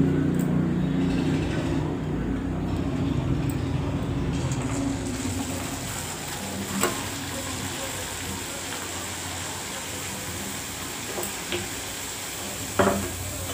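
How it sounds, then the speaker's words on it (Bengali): Luchi made from a mix of atta and maida dough frying in hot oil, giving a steady, close sizzle that runs throughout with a few faint clicks near the end. "এবার আমি লুচি ভাজাটা শুরু করব।"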